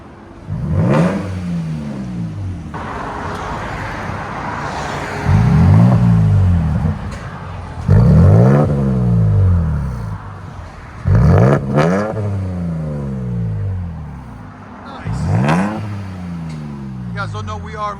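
A 3rd-gen Toyota Tacoma 3.5L V6 with a Carven TR-Series exhaust revs repeatedly, each loud rise and fall of the engine spaced a few seconds apart, close to the microphone.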